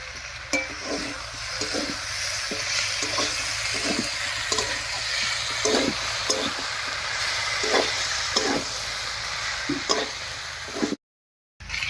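Spice paste and winter vegetables with dried fish fry in a wok, giving a steady sizzle broken by repeated scraping stir strokes, close and moderately loud, before a brief cut to silence near the end.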